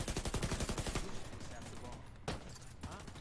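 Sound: gunfire shooting a sniper in The Division 2 video game

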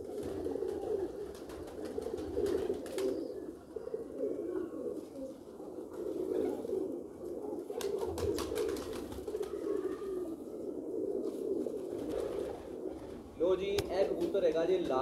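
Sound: pigeons cooing

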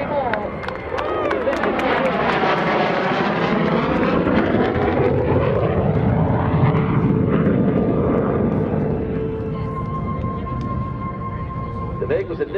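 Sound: jet fighter making a tight 8G turn at an airshow

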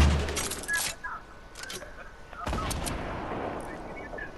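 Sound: gunshots in the video game Fortnite

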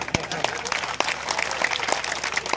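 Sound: applause

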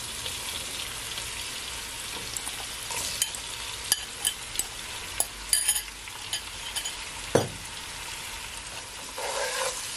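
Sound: stirring seasoned salt fish frying in a pan

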